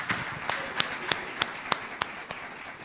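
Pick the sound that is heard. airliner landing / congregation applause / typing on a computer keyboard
congregation applause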